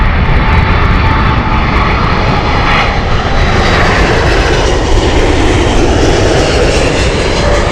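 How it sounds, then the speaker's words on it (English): Jet engines of a United Boeing 777-200 airliner at Heathrow roar loud and steady throughout, a dense, continuous rush of noise with no talk or other sounds. "United 777-200 here."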